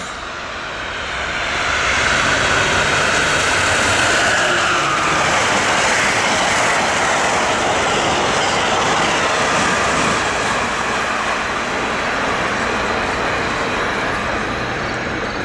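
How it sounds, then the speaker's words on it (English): A train passing at night on a rail secondary line, a loud sustained rumble and rolling roar that swells in within the first two seconds and holds steadily close by, with no talk. "Nighttime trains."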